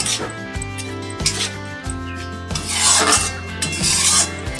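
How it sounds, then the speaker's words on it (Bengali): A spoon scrapes and stirs yogurt into fried spice masala in a pan for Bengali doi katla, a series of rasping strokes close up over a steady musical background. "এবার দইটা দিয়ে দেবো, একটু কষিয়ে নেব"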